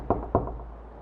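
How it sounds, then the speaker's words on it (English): Two sharp knocks on a porch door, spaced about a quarter second apart, fairly close and clear with a faint low background hum and no voices. "Reluctantly, I knocked on the door."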